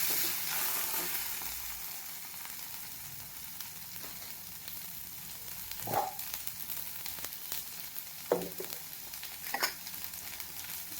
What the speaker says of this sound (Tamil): இந்த வெங்காயம் நல்லா வதங்கி வரட்டும்.